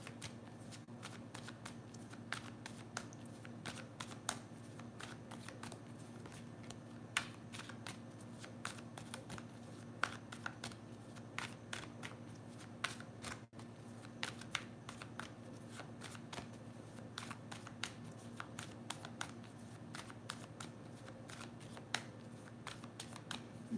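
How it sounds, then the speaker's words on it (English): A deck of cards being shuffled steadily for a long stretch, crisp rapid riffling clicks repeating at close range, with a low steady hum underneath. "Okay, I'm shuffling this deck."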